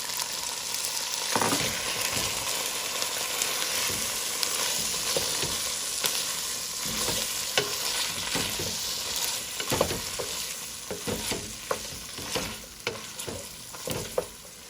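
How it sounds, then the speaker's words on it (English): Canned red beans tumble into a pot of oxtail, setting off a steady close-up sizzle with scraping, clattering stirring strokes throughout, and no talking. "I'm gonna go in with my beans, and I'm using canned red beans"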